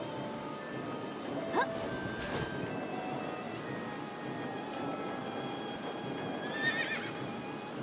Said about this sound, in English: Why is it making horse noises?